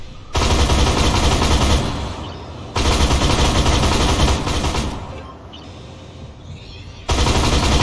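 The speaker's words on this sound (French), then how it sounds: "on s'amuse bien plus avec le VBL rang 5 et son canon mitrailleur" A VBL armored vehicle fires its machine cannon in Armored Warfare: several long rapid bursts, loud and close, broken by short pauses and a quieter stretch.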